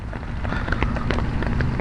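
Heavy rain pours steadily onto flooded city streets, a dense, even hiss with scattered splashes, close and loud throughout with no talk.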